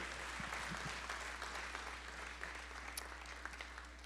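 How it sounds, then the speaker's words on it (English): Distant audience applause, a faint, steady wash of clapping from a crowd, with a few scattered sharper claps near the end. "Give them all a nice round of applause"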